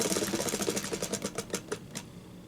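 A prize wheel for a Yu-Gi-Oh banlist roulette spins with a rapid run of ticking clicks that gradually slow and fade, close and steady with no talking.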